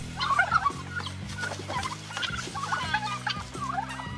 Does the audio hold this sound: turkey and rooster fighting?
yes